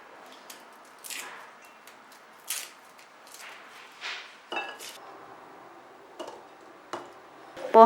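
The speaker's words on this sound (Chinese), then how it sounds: "再借助小刀去掉蒜皮，这样指甲也不会疼" A small knife scrapes and picks at garlic cloves to remove the skins, giving soft, sparse clicks and papery scratches at close range with quiet pauses between them.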